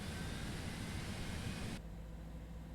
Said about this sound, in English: Number 2 engine start here